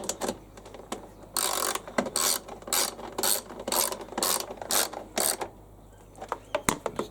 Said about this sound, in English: 10mm socket does everything on this.